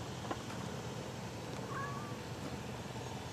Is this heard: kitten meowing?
yes